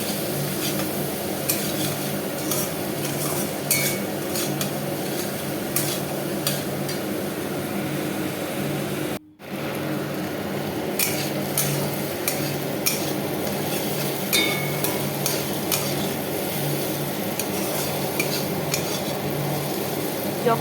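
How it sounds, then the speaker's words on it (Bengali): Oats khichdi with vegetables being stirred and mixed in a pot, a continuous scraping and clinking of a spoon against metal over a soft simmer, close and steady with one brief break. "তারপর আবার সব ভালো করে মিক্স করতে থাকবো"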